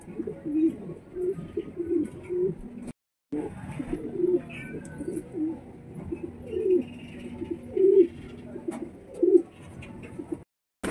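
Male pigeon cooing from inside a nest box while pairing with a hen, a steady series of soft, throaty coos repeating every second or so, close and clear with brief pauses.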